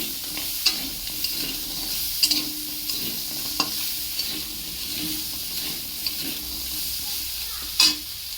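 Salted crab is stirred in a frying pan, producing a soft steady sizzle punctuated by intermittent scrapes and clicks from the utensil.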